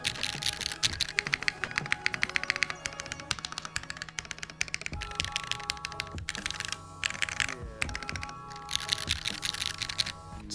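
Rapid, steady typing on a Merisi Works Ottantaquattro mechanical keyboard during a typing test, with dense, crisp clacking keystrokes up close and a few brief pauses.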